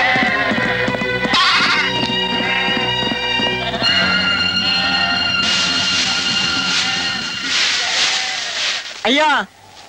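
Goats bleat loudly in a rustic village setting, several overlapping cries over a dense, busy background with music-like tones, ending in a sharp wavering bleat.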